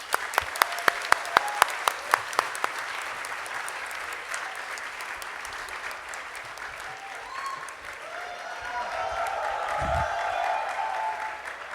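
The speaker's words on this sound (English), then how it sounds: "Can we give a round of applause for all of them" Audience applause for students and volunteers from a mobility workshop at a design, technology and social innovation school event, opening with several sharp single claps before swelling into sustained clapping from a crowd that carries on steadily throughout.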